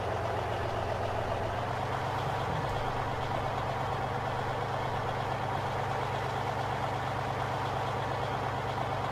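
Tractor engine idling in the Farming Simulator 15 video game, a steady low diesel drone with a constant chugging throb, moderately loud and unbroken for the whole stretch, with no talking over it.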